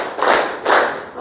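A classroom of students claps together on a teacher's cue, producing two loud, sharp group claps in quick succession with a short gap between them.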